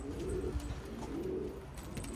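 Pigeons in a new coop give soft, low cooing calls in short repeated phrases, close by and fairly quiet, with light background noise and no talking.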